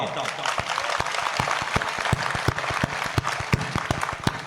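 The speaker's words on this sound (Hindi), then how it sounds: "इसमें कोई ताली बजाने की बात नहीं थी।" Audience applause at a Hindi comedy and humorous poetry stage show: dense, steady clapping from a live crowd with sharp individual claps standing out throughout, fairly loud, with some voices mixed in.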